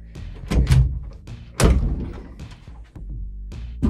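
A door leading to a hidden room inside a house, set in concrete blocks, swings open with two heavy thuds and knocks in a quiet, close indoor space.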